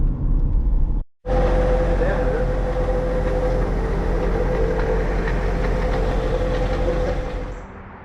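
A Corvette wheel spinning on a lift with a bad wheel bearing makes a loud, steady mechanical roar with a sustained droning hum, briefly cutting out near the start and then grinding on without pause.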